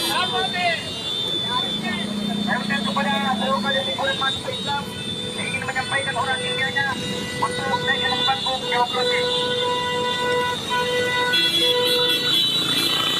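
Street traffic on Jalan Urip Sumoharjo in Makassar during a student protest blockade, with motorists honking repeatedly over a dense engine rumble, horns of varying pitch sounding near and far.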